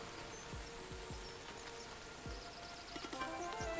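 Rain in the Hundred Days Winemaking Simulator game patters faintly and steadily over a vineyard, with a few soft low thumps and light chirps mixed in.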